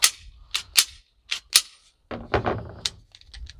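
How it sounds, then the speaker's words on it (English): An ADE Advanced Optics pistol has its magazine removed, with a run of sharp, close metallic clicks and clacks, several quick snaps followed by a short rattling handling noise, in quiet surroundings with no talking. "Go ahead and we'll take the mag out."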